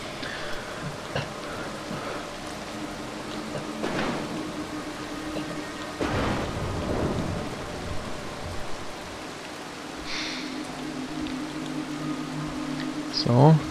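Thunderstorm ambience from the stealth video game Mark of the Ninja: a steady hiss of rain runs throughout, with a few louder rumbling swells of thunder breaking through at moderate volume.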